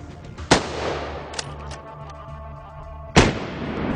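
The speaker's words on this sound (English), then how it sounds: "It's a good shot, but still he's made a run for it." Two loud, booming rifle shots ring out during a hunt for wild boar, about two and a half seconds apart, each with a short echoing tail and a faint crack between them.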